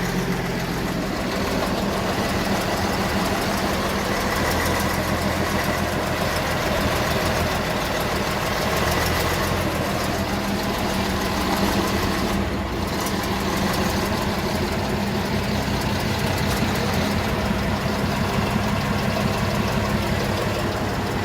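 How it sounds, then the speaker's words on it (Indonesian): A sugar factory steam locomotive running in a cab ride, with a steady, dense mechanical chugging and rumble that continues without a break throughout. "jadi mesin ini menggerakkan roda paling belakang teman-teman ya"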